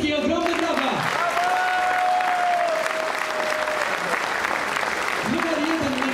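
Steady, dense applause from a crowd at a political campaign rally in Płock, Poland fills the whole stretch, with a sustained musical tone rising faintly underneath.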